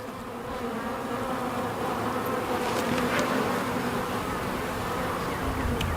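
Honey bees buzz steadily and loudly throughout an open beehive inspection, a dense continuous drone of many insects close by with no talk.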